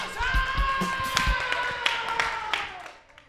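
Audience applause at a comedy joke-telling show, a scattered mix of claps and crowd noise with a few sharp hand smacks standing out and sustained tones running beneath, tapering off at the end.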